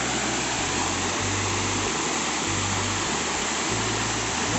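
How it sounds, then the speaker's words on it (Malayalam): A monsoon waterfall in the Periyar forest at Thekkady pours as a constant, dense roar of rushing water during heavy rain, with low rumbling underneath and no voices. "ഈ ഒരു വെള്ളച്ചാട്ടം മഴക്കാലത്ത് മാത്രമേ ഉള്ളൂ കേട്ടോ സമ്മറിലൊന്നും ഇല്ല ഈ ഒരു വെള്ളച്ചാട്ടം"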